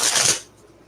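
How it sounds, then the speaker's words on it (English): A deck of tarot cards is shuffled in a brief, close riffle of crisp papery flutter that cuts off abruptly into quiet. "Just going to shuffle."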